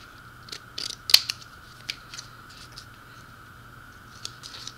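Scissors cutting paper for handmade gift tags, a few quiet snips and crisp clipping strokes at close range over a low steady hum, with no voices.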